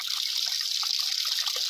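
A steady rushing hiss of water gushes continuously from a borewell running day and night for more than a month, with faint gurgles scattered through the flow.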